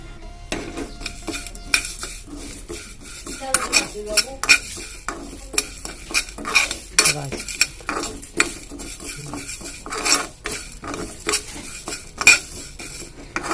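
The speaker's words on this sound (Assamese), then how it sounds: "আৰু একেলগে এইখিনি মই এতিয়া একেলগে ভাজিম।" Garlic and green chilli frying together in oil for a pickle, a low sizzle under frequent sharp metal spatula scrapes and clinks against the pan at an irregular pace.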